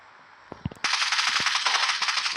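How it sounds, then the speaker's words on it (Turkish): Video game gunfire, a few sharp single shots followed by a sustained burst of rapid automatic fire that continues to the end. "Görmeden vuruyorum lan"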